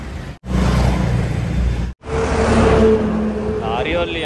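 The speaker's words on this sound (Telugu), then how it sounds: "లారీ వాళ్ళు ఏమో స్పీడ్ అవుతుంది." Road traffic roars past on a highway toward Berhampur, loud rushing engine noise from vehicles passing close by, broken by two sharp cuts, with a faint voice near the end.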